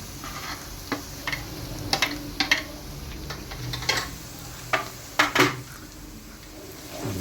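Chicken with ginger and garlic powder frying in a pot, a steady sizzle under repeated spoon scrapes and knocks against the metal as it is stirred, close and fairly loud with no talk.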